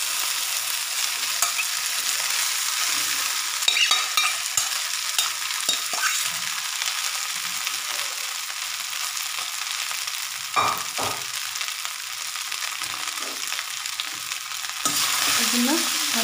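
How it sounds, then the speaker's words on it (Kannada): Two cups of cooked rice are stirred into sizzling masala in a pan for chitranna, giving a steady close frying hiss broken by repeated scraping strokes of a spoon, with no talk. "ಇದನ್ನು ಚೆನ್ನಾಗಿ ಮಿಕ್ಸ್ ಮಾಡ್ಕೋಬೇಕು."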